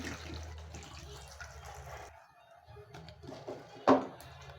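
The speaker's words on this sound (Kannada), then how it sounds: "ನೀರು ಹಾಕೋಣ." Water pours into a pressure-cooker pot over tomato, onion and garlic for radish rasam: a faint, close gush for about two seconds, then quiet trickles and a single sharp clink.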